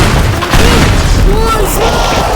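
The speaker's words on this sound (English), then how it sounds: "A freaking fish gun." Fish gun firing in the video game Teardown, continuous loud booming blasts and bursts layered over a shouting voice, dense and close with no gaps.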